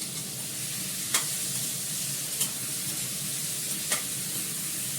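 Potatoes frying in a little oil, a steady close hiss of sizzling with a few sharp clicks of a utensil against the pan at intervals.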